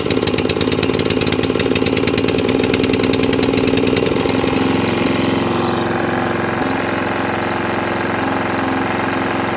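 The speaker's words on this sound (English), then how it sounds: "So once the idle adjustment, let's put it on choke." Small petrol engine of a Qualcast 35s cylinder lawn mower runs on choke, chugging loud and close with a rapid rattling beat that smooths into a steadier hum after a few seconds.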